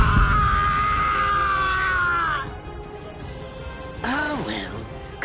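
A man screams in pain in the Bleach Rebirth of Souls video game, a long loud strained cry that fades out, followed by a shorter wavering groan.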